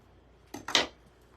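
Scissors trim a Christmas floral tree art piece with two quick, crisp snips in close succession, nearby and alone against a quiet room.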